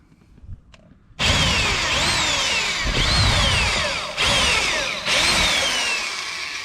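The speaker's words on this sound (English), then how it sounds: "I'm going to use a 3/16 drill bit to drill the head out." After a brief quiet start, a power drill with a 3/16 bit whines loudly into a metal rivet head on a 1995 Chevy pickup door, its pitch sweeping down as it bites, stopping and restarting twice.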